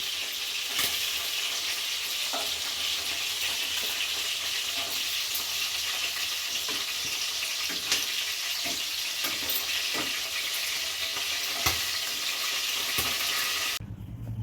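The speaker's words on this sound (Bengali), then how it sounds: "দুটো ব্যাচে আমি চিকেনগুলোকে ভেজে নেব" Chicken pieces fry in oil in a pan for Bengali-style dahi chicken, giving a dense, continuous close sizzle with scattered pops and crackles that stops abruptly at the end.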